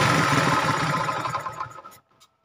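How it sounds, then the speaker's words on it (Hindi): An old 70cc motorcycle engine runs with a rapid, buzzing mechanical beat, then is switched off, sputtering down and falling silent within about two seconds. "तो अभी हम बाइक को बंद करते हैं।"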